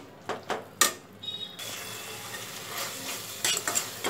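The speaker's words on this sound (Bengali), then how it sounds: "এবার এই মশলাটাকে মিডিয়াম আঁচে খুব ভালো করে কষাতে থাকবো।" Spices fry in a pan with a little water over medium heat, sizzling steadily while a utensil scrapes and clinks against the metal in a few sharp strokes near the start and end.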